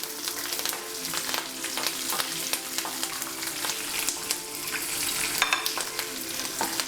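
Green chillies frying in a pan for a cabbage coconut curry, a dense sizzle with rapid spitting crackles and a few stirring clicks, loud and steady.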